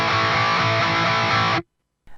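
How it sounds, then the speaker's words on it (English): Instrument playing a basic eighth-note rhythm, a loud, dense distorted chord sound strummed continuously, then cut off abruptly, with a brief faint restart just before the end. "So let's take a very basic eighth note rhythm which sounds like this."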